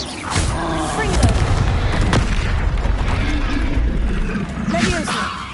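A Confringo fire spell blasts in Hogwarts Legacy, a sharp boom cutting through dense, loud game combat noise, with a voice talking over it.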